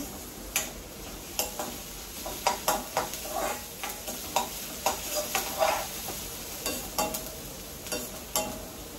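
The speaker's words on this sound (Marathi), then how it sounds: "आपण कांदा छान परतून घेऊया" Onions sauté in a pan while a utensil stirs them in repeated scraping strokes over a soft background sizzle, fairly quiet and close, with no talking.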